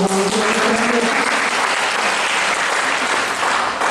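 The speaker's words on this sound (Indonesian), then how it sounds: "Berikan tepuk tangan." A church congregation applauds during a Sunday service celebration, a loud, dense, continuous clapping that fills the whole stretch, with faint voices in the first seconds.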